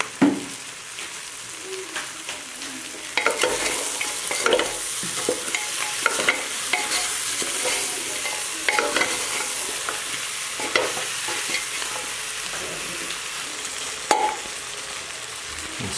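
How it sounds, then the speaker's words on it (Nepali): Goat meat frying with ground spices and salt in a pressure cooker pot, a loud close sizzle with frequent stirring scrapes and occasional clanks throughout. "मसला हाल्यो, मार मसला पिसेको अलिक मसलाहरू यहाँ हालियो, हालेर फ्राई गरिँदैछ।"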